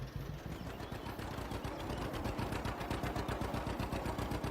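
A 20 horsepower tractor from around 1934 in Farming Simulator 25, its engine running with a fast, even chugging rhythm that holds steady and fairly loud throughout, with no voices.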